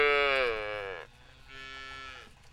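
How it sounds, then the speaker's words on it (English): Holstein dairy cows on a small organic farm near Lancaster, Wisconsin, giving two loud, close moos, a long sustained call followed after a short pause by a second, softer one. "John Ime operates an organic 54-cow Holstein dairy with his parents near Lancaster, Wisconsin."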